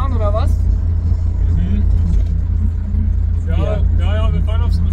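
Steady low engine rumble and road noise inside a moving camper van, heard continuously under a voice talking.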